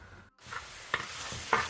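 Onions sautéing in a pan for a chicken dish give a steady close sizzle, broken by a short silence and a few sharp scraping clicks from stirring.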